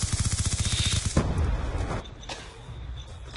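Rapid automatic gunfire in Call of Duty Black Ops II rattles in a fast, loud burst for about a second, followed by a few scattered, fainter shots and quieter game noise.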